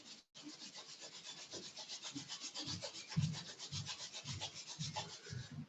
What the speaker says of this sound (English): Let's rub the hands together again